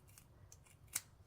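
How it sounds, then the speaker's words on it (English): Scissors snip through braiding hair up close, a few quiet crisp cuts with one sharper, louder snip near the end, over a faint background. "And I'm just going to take my scissors and go straight up and cut it."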